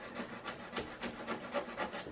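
Sandpaper is rubbed back and forth on wood while sanding a model boat kit, making a steady rhythmic scratching of about eight strokes, close and moderately loud with no talk.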